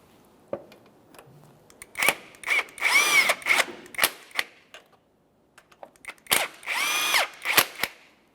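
A power tool snugs the two 17mm bolts on the right front engine mount of a 2014-2019 Toyota Corolla, with close, loud whirring bursts of rattling impact spaced between pauses, two longer runs standing out.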